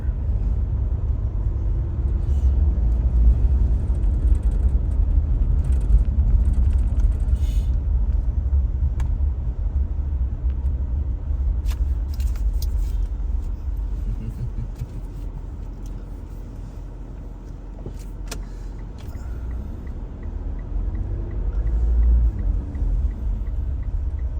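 A car drives through Cebu City morning rush hour traffic, its interior filled with a steady low road rumble and engine hum, with occasional faint clicks and ticks and no talking.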